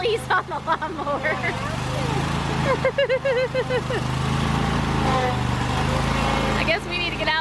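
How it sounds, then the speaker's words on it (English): A riding lawnmower engine runs with a steady low drone beneath excited voices of people talking and exclaiming nearby while the mower rolls across a yard. "Daddy's popping wheelies on the lawnmower."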